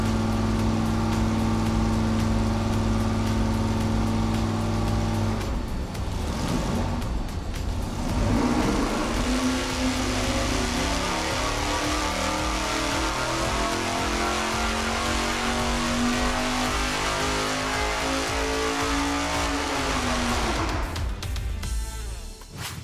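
A car engine runs on a dyno after a distributor timing adjustment, droning loud and steady at idle before the revs rise and hold high with a sustained roar, then drop off at the end.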